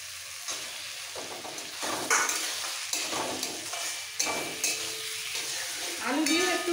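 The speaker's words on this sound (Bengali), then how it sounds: "আলু দিয়েও একটু কষিয়ে নিতে হবে।" Fried potatoes are stirred into thick masala for a katla fish curry with cauliflower, giving a close, steady sizzle with repeated scraping and clattering spatula strokes and no talking.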